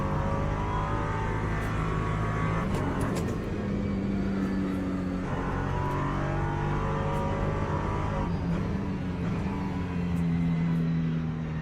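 Race car engine from the Le Mans Ultimate racing game, a steady loud prototype drone with gear downshifts and revving, continuous and close throughout, with other cars around.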